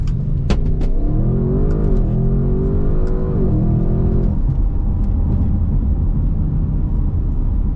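A 2021 Audi RS6 Avant launching under launch control, its engine climbing hard through several quick upshifts with abrupt breaks at each shift before settling into a loud, close cabin rumble, with no talk.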